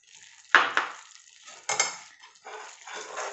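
A spoon scrapes and stirs a 7 cup burfi mixture with ghee in a pan, giving three or four short, close scraping strokes separated by brief pauses.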